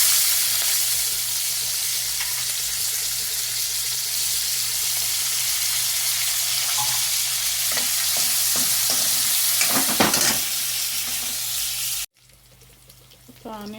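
Onions fry in hot oil with a loud, close, continuous sizzle, broken by scraping stirs toward the end before the sizzle suddenly drops to a quieter crackle.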